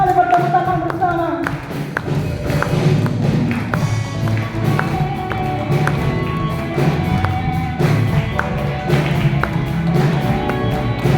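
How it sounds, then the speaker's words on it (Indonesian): A church congregation at a GBI Rahel worship service claps hands together in a steady rhythmic beat of sharp, repeated claps over music. "Mari bertepuk tangan bersama."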